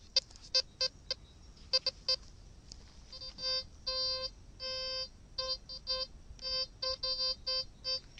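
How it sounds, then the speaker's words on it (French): A VLF metal detector set to minimum ground balance sounds over heavily mineralized pottery, giving a string of clear electronic beeps in short and longer tones, some in rapid rhythmic bursts, against a faint background. "Ça c'est le détecteur qui détecte en fait la poterie comme du métal parce que les effets de sol sont réglés au minimum"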